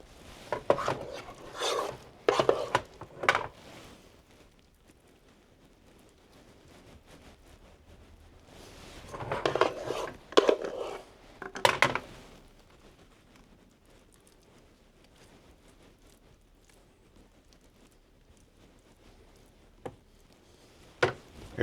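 Mashed potatoes scooped and spread over a meat mixture for shepherd's pie, clusters of soft scraping, dragging spoon strokes in short bursts with quiet stretches between and a couple of light knocks near the end.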